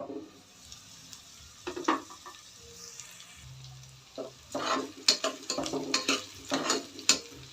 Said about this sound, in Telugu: ఇంకా కొంచెం వేగాలండి.